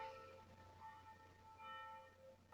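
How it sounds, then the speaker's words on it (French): Church bells ring faintly in the distance, their sustained tones overlapping and swelling slightly, with a low background rumble underneath. "On continue même avec le bruit des cloches?"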